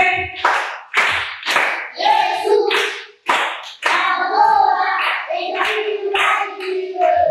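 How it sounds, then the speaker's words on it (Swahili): A group claps for a child at a church children's gathering, with bursts of hand-clapping mixed with voices calling out in between. "Makofi kwake."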